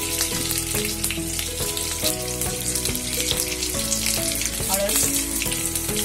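Mustard seeds and curry leaves frying in hot oil for sambar give a loud, close, continuous sizzle with crackling pops throughout, no talking over it.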